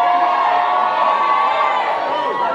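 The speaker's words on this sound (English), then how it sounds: "Make some noise if he should start" A live crowd at an Afrobeat dance championship battle in London cheers and shouts loudly in a sustained roar of voices and whoops, with a host's voice mixed in.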